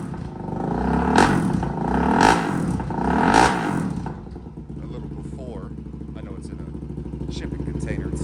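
A Suzuki DRZ400 with an MRD exhaust, on a dyno inside a shipping container, gives three loud, close revving bursts, then settles into a choppy idle with mechanical clatter.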